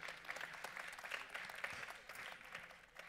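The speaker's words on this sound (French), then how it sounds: "voilà, le collectif Greffe Plus qu'on peut applaudir" Audience at a congress forum applauding a transplant patients' collective, a short burst of dense clapping from a moderate-sized crowd, fading slightly at the end.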